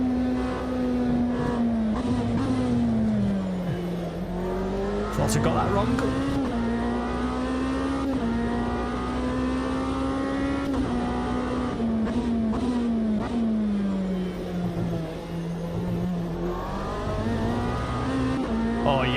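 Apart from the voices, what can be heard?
Lamborghini race car engine in video game Automobilista 2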